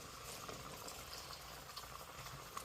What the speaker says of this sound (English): Take your water, fill it all the way